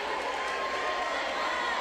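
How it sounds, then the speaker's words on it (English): A high school basketball crowd in a gym roars and cheers after a dunk, a steady, dense wash of noise from many voices with no distinct breaks, while a commentator talks over it. "this Red Mountain crowd is getting hype"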